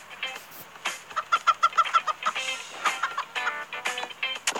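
A chicken clucks in the video game Turbo Dismount, a rapid series of short, bright clucks in a jittery rhythm, fairly close, mixed with other game sounds and no talking.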